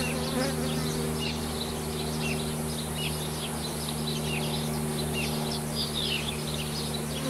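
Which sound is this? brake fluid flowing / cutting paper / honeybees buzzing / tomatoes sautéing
honeybees buzzing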